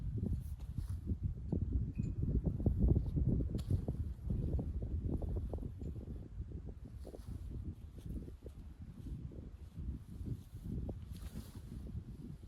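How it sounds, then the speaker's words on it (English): Strong headwind buffets a microphone on a disc golf course at Lake Carl Blackwell, a continuous low rumbling roar with gusty surges throughout. "Still a lot of headwind."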